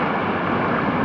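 Artificial waves start rolling in a theme park wave pool at VinWonders Nam Hoi An, heard as a steady, dense rushing wash of water that holds at an even loudness throughout, with no voices.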